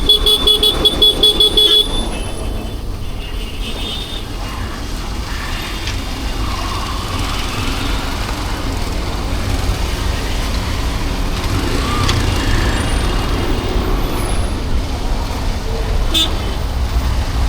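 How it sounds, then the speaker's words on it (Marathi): A vehicle horn toots briefly at the start over steady road traffic, and engines of passing cars and larger vehicles keep rumbling throughout. "कोण आहे काही अय्या हॉर्न मारतोय"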